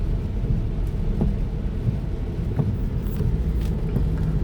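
Steady rain falling in Vientiane with a deep, low thunder rumble underneath, a continuous close wash of noise with no voices.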